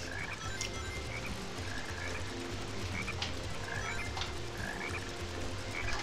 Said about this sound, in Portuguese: É tipo o ribbit que o sapo faz?